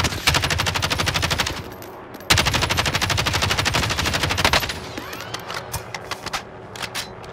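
Rapid automatic gunfire in a multiplayer shooter video game, two long sustained bursts of fast rhythmic shots separated by a brief pause, followed by a few scattered single shots and softer clicks, loud and close with no talking.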